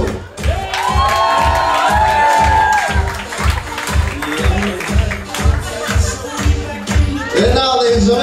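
Wedding reception guests in Honolulu cheer and clap for the ushers as they are introduced, crowd noise and applause rising under loud, steadily pulsing dance music with a heavy beat throughout.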